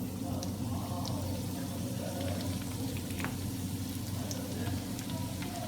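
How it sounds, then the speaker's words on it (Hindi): Samosas and rolls frying in very hot oil give a steady, dense sizzle and crackle that runs throughout, close and even with no pauses. "ये आप देख सकते हैं ऑयल हमारा बहुत गर्म है और ये फ्राई होना शुरू हो गए हैं"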